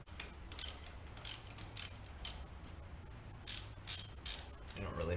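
Ratchet loosening the shifter linkage bolts on a Kawasaki Vulcan motorcycle, a series of sharp close clicking bursts in a stop-start rhythm against a quiet room hum.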